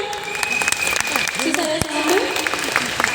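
Women in the audience of a comedy stage skit clapping together, a dense patter of applause that stays fairly soft and steady, with people talking over it.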